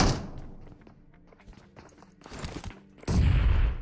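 Gunfire in the battle royale game BGMI, scattered dull shots and thumps at first, then a louder, dense burst of rapid fire near the end; no talking.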